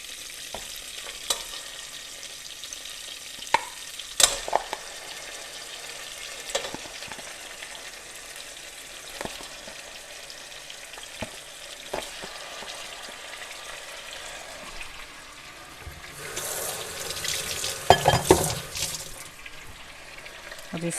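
Washed mutton sizzles and fries in a pot for aloo gosht, with the steady crackle broken by clanks and scrapes of stirring and a louder burst of sizzling near the end; no one speaks.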